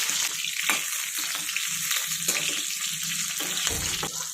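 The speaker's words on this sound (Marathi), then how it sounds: "आता ही मिरची आपण चांगली परतून घेऊया।" Green chillies frying and being turned in very hot oil in a home kitchen, a steady broad sizzle with soft scraping and stirring knocks recurring throughout, close and even in level, no talk.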